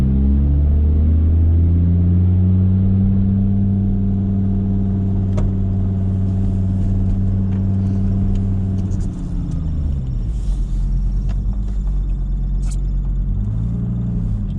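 Mercedes car with an OM605 diesel engine climbing a snowy hill in second gear, a steady low engine drone that shifts pitch midway, loud and close with no talk over it.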